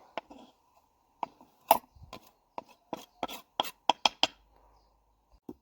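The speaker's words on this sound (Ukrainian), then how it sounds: "Ось так дуже мілко треба порізати" Knife finely chopping spring salad vegetables outdoors on a board: a run of sharp, close, wooden-sounding chops, sparse at first then quicker and steadier in the middle, with no talk.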